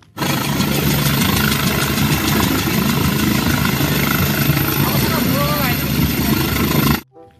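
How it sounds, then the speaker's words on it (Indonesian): A helicopter engine drones with a loud, steady roar and fast rotor pulsing, close and unbroken, then cuts off sharply at the end. "Ada helikopter teman-teman."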